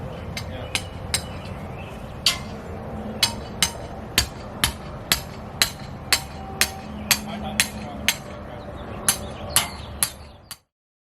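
Sharp blows from an orange hammer strike repeatedly in a steady, fairly quick rhythm, close by, over a low background hum before stopping abruptly.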